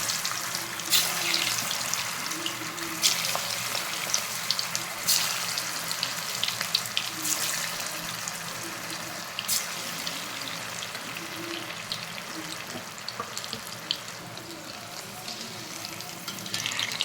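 Banana flower balls deep-fry in oil in an iron pan, a steady close crackling sizzle with sharper pops scattered throughout, heard alone without speech.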